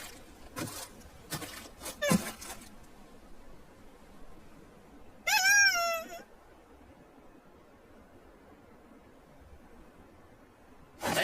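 A voice imitates a cat's meow with one short, wavering, nasal call partway through. Before it come a few scattered rustles and knocks, and faint, quiet room noise follows.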